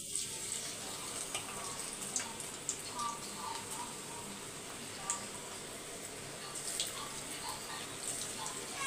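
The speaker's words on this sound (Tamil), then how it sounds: "இப்போ வந்து எண்ணெய் காஞ்சிருச்சு. இப்போ கொஞ்சம் கொஞ்சமாக கிள்ளி போட்டுக்கோங்க" Pinched pieces of pakoda batter frying in hot oil, a quiet steady sizzle with scattered small crackles and pops, heard faintly in the background of a kitchen.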